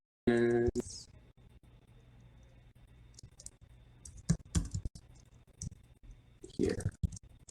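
Computer keyboard keys tapped in short, uneven bursts of clicks at close range, with quiet pauses between runs of keystrokes; a brief voice-like sound appears at the start.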